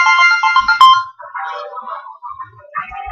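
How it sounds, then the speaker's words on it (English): Phone ringtone going off in a car, a bright electronic melody of short repeating notes, loud and close, playing alone with brief pauses between phrases. "Did both of our phones really just go off?"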